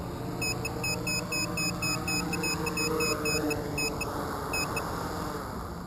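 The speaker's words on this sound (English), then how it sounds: "Oh, LiPo alarm is kicking in," A LiPo battery low-voltage alarm on a DJI F550 hexacopter with NAZA GPS sounds rapid, steady high-pitched beeps in regular pulses over the constant whir of the motors, close and fairly loud.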